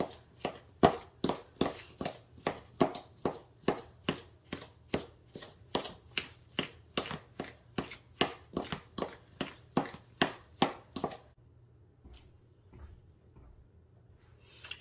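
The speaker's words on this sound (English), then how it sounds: "we're going to just cut the butter into the sugar" Butter being cut into sugar for a muffin crumble topping, a rapid run of sharp, evenly spaced chopping clicks against a bowl or board for about eleven seconds, close and clear, then falling quiet.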